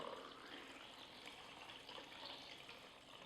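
Fixer solution is poured into a film developing tank while processing black-and-white film, giving a steady, soft, continuous liquid rush that stays even and fairly quiet throughout.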